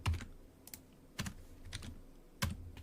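Computer keyboard keys tapped at a steady pace while using Alt and arrow keys for web design work, with a few sharp, quiet clicks spaced about a second apart, close and isolated with no talk.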